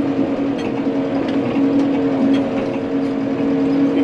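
A tractor running a manure spreader with its PTO shaft engaged and the bottom conveyor turning, heard as a steady loud mechanical drone with a constant low hum and faint rattling, no voices.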